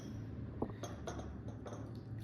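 During a coffee cupping a glass is picked up, giving one short clink followed by a few soft knocks and taps against a quiet background hum.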